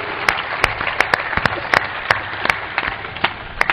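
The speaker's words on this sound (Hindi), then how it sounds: "जोर से ताली बजाओ" Audience clapping loudly at a religious discourse gathering, a burst of sharp, uneven claps with distinct individual hand strikes over a diffuse, steady applause wash.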